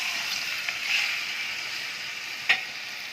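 Meat sizzles gently in ghee over low heat in a karahi, a soft, even high hiss with a couple of faint clicks and one brief sharper spit near the end.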